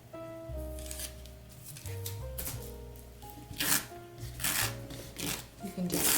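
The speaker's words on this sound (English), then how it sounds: "So let's remove all this tape" Tape peeled off fabric and stabilizer on a hooped embroidery piece for a Santa plushie's suspenders, a series of close rasping rips over faint background music.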